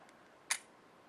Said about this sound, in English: I'm going to hit the camera shutter button here and start up the camera.